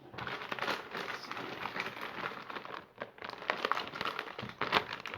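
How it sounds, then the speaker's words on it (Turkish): Packaging for an MSI GF63 Thin 10SCSR laptop is unpacked from its box, giving continuous close, loud crinkling and rustling of plastic wrap with one brief pause midway and no talking. "Şimdi kutunun içindekini açıyoruz arkadaşlar"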